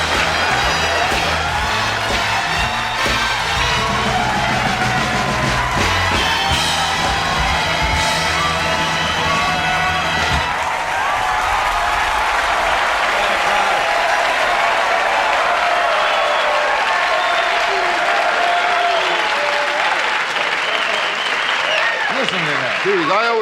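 Big comedy-club crowd applauding and cheering loudly throughout, with whoops and shouts rising and falling in a steady roar of clapping.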